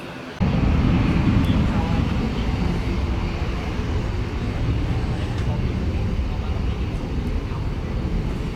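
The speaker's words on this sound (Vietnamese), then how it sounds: "Và bây giờ máy bay cất cánh nào." A Viettravel Airlines Airbus A321 takes off from Tan Son Nhat airport, its engines kicking in abruptly and then holding a loud, steady broadband roar throughout.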